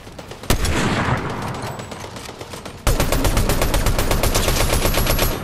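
Loud, rapid automatic gunfire from Fortnite rattles in two sustained bursts. A single sharp shot leads into a dense stream of rounds, which breaks off briefly before a second, steadier volley of evenly spaced shots.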